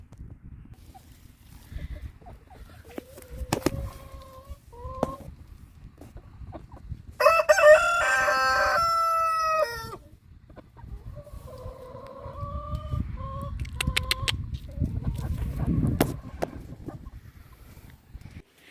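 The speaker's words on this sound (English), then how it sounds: "we got some new chickens yesterday and look how cute they are" Chickens cluck softly in short, scattered calls, then a rooster crows loudly and at length nearby, followed by more clucking and rustling.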